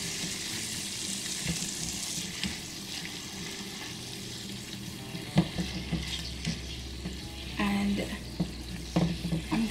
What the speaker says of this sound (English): 2 tablespoons of this sweet chili paste. Sweet chili sauce. About 2 tablespoons. I'm just going to give this a good mix.